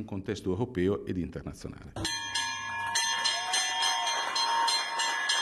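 The traditional bell of the Milan stock exchange rings out in one strong, sustained metallic strike that lingers and slowly decays, right after a few seconds of talking.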